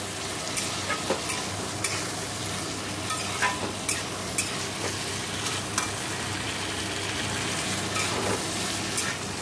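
Chickpeas sizzle and fry in a spiced onion-free masala with salt and turmeric, while a spoon scrapes and stirs the pan in a steady series of soft, close strokes over a constant hiss.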